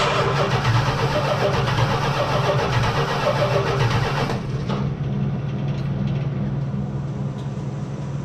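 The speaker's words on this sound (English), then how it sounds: "Hook up your handy dandy spark tester and crank the motor" A car engine cranks with a spark tester attached, steadily with a rapid, rhythmic churning, close and loud, easing slightly about halfway through.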